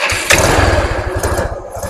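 Motorcycle engine, a Commander, cranks and catches during a test run after a burnt socket pin and wire harness repair, then runs with a loud, steady low putter close by, no talking.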